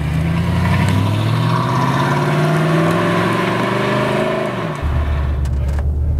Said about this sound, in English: There's so much engine noise that you can hear right away.